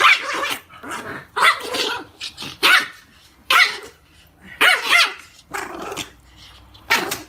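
A dog barks in sharp repeated bursts mixed with throaty growling, fairly close and loud, the outbursts spaced irregularly with brief quiet gaps between them.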